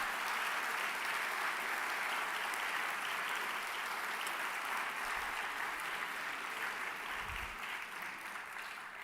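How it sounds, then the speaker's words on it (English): An audience at an evening commemoration event applauds after a speech, a steady, even wash of clapping that holds for about nine seconds and fades slightly near the end. "Another round of applause, please."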